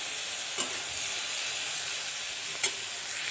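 Panch phoron and dried red chilies fry in hot oil with a steady, dense sizzle and hiss, close and even, broken by two brief spoon clinks, with no one talking.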